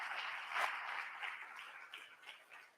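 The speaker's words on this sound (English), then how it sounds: "a round of applause" Audience applause at a college opening day event, a fairly quiet, steady patter of many hands clapping that slowly tapers off.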